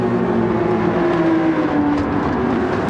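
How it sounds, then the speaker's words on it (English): An Audi race car with a non-V8 engine in Gran Turismo 7 holds a continuous, loud, steady engine drone with a strong tonal hum, sustained without pause. "Hello, Audi. Okay. Great sound. It's not a V8."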